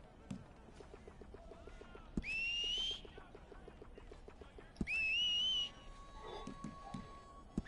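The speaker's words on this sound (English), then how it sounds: "He's rubbish at whistling." A player character whistles in the video game Red Dead Online: two short rising-and-falling whistled tones, each about a second long, separated by a pause over quiet game ambience.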